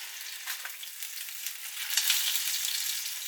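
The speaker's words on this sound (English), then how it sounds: "So in with the cooking oil, let that get nice and hot, a couple of tablespoons worth, and then we'll go in with the grill steaks." Venison grill steaks frying in a couple of tablespoons of very hot cooking oil, a loud, steady, crackling sizzle close up that swells slightly toward the end.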